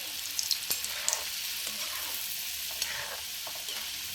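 Modak dumplings deep-frying in hot oil over a medium-low flame until golden brown, giving a steady close sizzle with faint stirring clinks.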